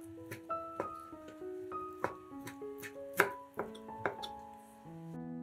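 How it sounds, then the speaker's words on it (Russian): A knife chops boiled chicken thigh meat into small pieces on a board, giving a series of distinct, close, quiet taps at an uneven rhythm with ringing tones between them. "Мясо нарезаем небольшими кусочками."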